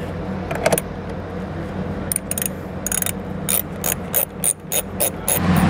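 Small bolts are loosened with a ratchet during installation of a hidden hitch receiver on a 2020 Tesla, giving close, rapid metallic ratchet clicks in repeated short bursts over a low steady hum.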